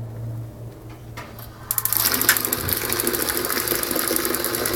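Excel 1.6 GPM gas tankless water heater igniter: a low hum and a few soft clicks, then a sudden burst of rapid, evenly spaced spark ticks that continues steadily and close.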